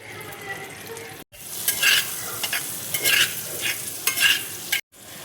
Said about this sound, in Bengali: কড়াইয়ে দেখো এবার আমি বাটার দিয়ে দিলাম